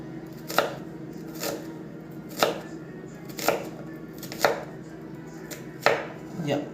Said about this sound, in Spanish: el siguiente corte que vamos a realizar en cebolla es el corte en media luna, por lo cual tenemos que tener el cuchillo medio inclinadito